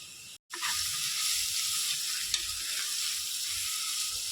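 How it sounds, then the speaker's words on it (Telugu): Onions with turmeric frying in a pan for a pressure-cooker chicken curry, giving a steady close sizzle with a sharp crackling hiss throughout, broken by a short silent gap near the start. "ఆనియన్స్ అయితే ఫ్రై అయిపోయాయి"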